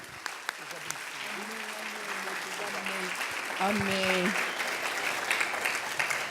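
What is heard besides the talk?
applause from church congregation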